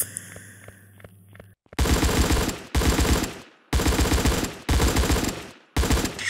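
An Android offline shooter video game fires repeated bursts of loud automatic gunfire, each lasting about a second and separated by short gaps. Quieter game sounds come first.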